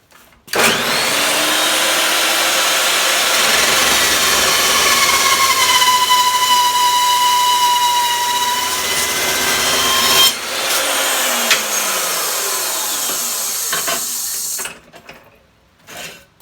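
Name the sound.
power tool cutting a metal piece down the center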